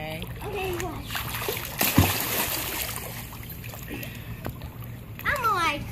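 Water splashing in a swimming pool, with a sharp splash burst near the middle among steady churning, while children shout and talk over it.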